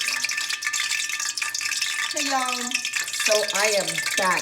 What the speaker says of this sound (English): that is the sound of my oil sizzling